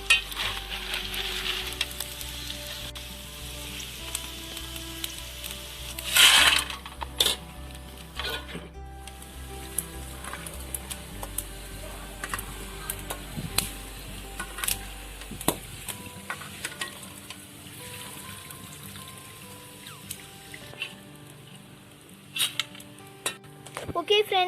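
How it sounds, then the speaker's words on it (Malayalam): Sliced tapioca chips fry in hot oil with a steady sizzle and crackle, interrupted by clinking metal stirring and scooping sounds in a quiet kitchen. "നമ്മൾ എടുത്ത് വെച്ചിരിക്കുന്ന 1 കിലോ ചീനിയോളം നമുക്ക് ഇതുപോലെ തന്നെ വറുത്തെടുക്ക"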